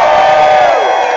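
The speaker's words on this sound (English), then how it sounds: "So on three, I want everybody to cheer," A group of people cheers together on cue outdoors, a loud burst of whoops and shouts that holds briefly and then starts to fade.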